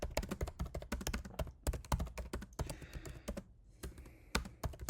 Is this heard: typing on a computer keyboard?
yes